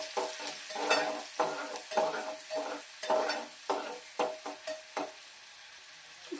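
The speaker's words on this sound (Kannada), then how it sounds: "ಜೊತೆಗೆ ಆನಿಯನ್ನು, ಸ್ಪೈಸಸ್ಸು ಮತ್ತು ಬಟರ್ ಸ್ವಲ್ಪ ಹಾಕಿ ಸ್ವಲ್ಪ ಫ್ರೈ ಮಾಡ್ಕೊಳ್ಳೋಣ" Onions, spices and butter frying in a pan for a paneer gravy: a steady sizzle runs throughout, broken by rhythmic scraping stir strokes of a spoon against the pan, close and fairly loud.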